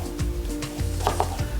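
A knife chopping a medium-sized onion on a board, several quick crisp cuts in an uneven rhythm, close and clear with no talking.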